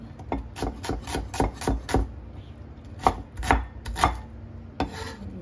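Rapid knife chopping on a cutting board, a quick run of sharp strokes, a pause, then several more uneven chops, close and clear.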